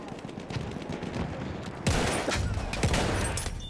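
Pistol gunfire from the video game Battlefield 1 crackles in rapid repeated shots, getting louder and denser partway through, with a faint voice beneath.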